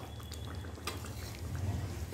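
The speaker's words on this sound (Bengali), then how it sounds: "ছুটির দিনে এখন একটু চিকেন রান্না হচ্ছে।" Chicken cooking in a pan at home, with a utensil clinking and scraping against the pan over a soft, steady frying hiss, close and fairly quiet.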